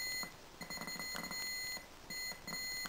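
Rapid electronic beeping from a BASIC Stamp microcontroller board in bursts, a high shrill tone pulsing quickly, pausing briefly, then starting again, fairly faint.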